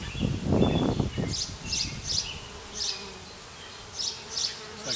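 Honey bees buzz around a hive frame of capped brood, a steady low hum with occasional louder passes close by and a brief burst of handling noise near the start.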